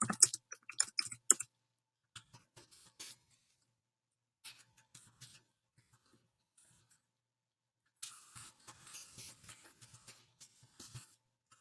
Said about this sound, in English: I'm going to take a minute to type those up